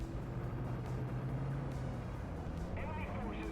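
Engine roar and revving of two tanks, among them an AuF1 self-propelled gun, in the game War Thunder, a continuous loud rumble with shifting pitch as one accelerates, with a voice speaking over it.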